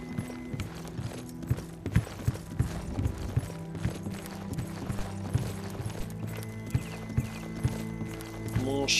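Horse hooves clip-clop in a steady trotting rhythm in the video game Oblivion, fairly close and clear, layered over a low sustained in-game hum with a faint whinny-like tone.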